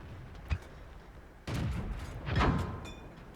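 Repeated metallic impacts of tank shells glancing off armour in World of Tanks, the Pz IV against a KV: a sharp hit near the start, then two louder, longer clanging ricochets close together with a ringing tail.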